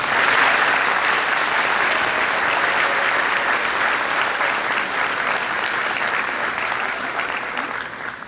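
A graduation ceremony audience at a nursing pinning ceremony applauds for several seconds, a loud, sustained wash of many hands clapping that eases slightly near the end.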